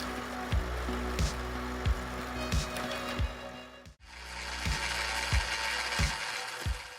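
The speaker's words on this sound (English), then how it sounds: "Each slow but powerful rotation splits the log in half instantly." An old automatic firewood processing machine splits logs with slow, powerful rotations. It gives a steady mechanical clunk roughly every half second over a constant grinding hum, with a short break midway before the rhythm starts again.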